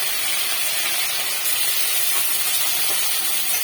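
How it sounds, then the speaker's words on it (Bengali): Kachki fish fry in hot oil with a steady, close, even sizzle and hiss that holds without a break and has no voices over it. "এপাশে তেল গরম হয়ে গেছে, আমি বাকি মাছগুলো ভেজে নেব।"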